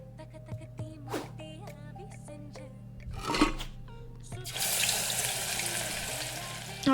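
Cooking in the video game Venba: clinks and watery splashes give way to a loud, steady sizzling hiss of food frying in a pan, close and continuous.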